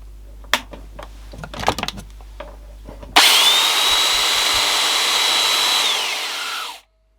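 A Hitachi SB-75 belt sander, just repaired after an earth leakage fault, starts with a sharp onset and runs at a steady high whine for about three and a half seconds, then winds down. A few handling clicks and knocks come before it starts.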